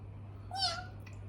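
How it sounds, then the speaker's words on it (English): A cat gives a single short meow, faint and brief, over a steady low electrical hum. "What's the sound of cat? Meow."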